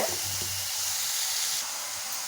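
Chopped carrot and onion sauté in a hot pan with oil, giving off a steady, close sizzling hiss that barely changes across the moment, with no voices.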